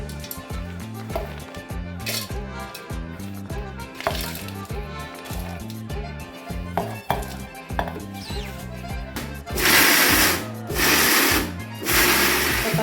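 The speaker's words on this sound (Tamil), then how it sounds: "இதை அப்படியே வந்து குறன்னு நுணுக்கி எடுத்துக்குவோம்" Roasted nuts being coarsely ground in a mixer jar, heard as a steady rhythmic whirring and rattling that runs in pulses, then a louder, harsher burst of grinding toward the end; no voices.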